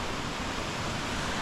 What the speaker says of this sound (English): Maximum water I've seen in a waterfall in places that I've been to.